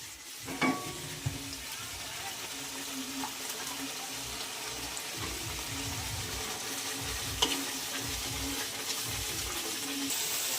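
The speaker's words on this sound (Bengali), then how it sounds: "এখন আমি মশলাটা খুব ভালোভাবে কষিয়ে নিব" Roast masala sizzles steadily as it is fried and stirred in a pan for a chicken jhal fry, with occasional scraping strokes over a continuous close hiss and no talking.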